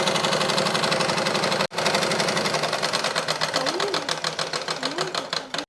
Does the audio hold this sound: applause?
no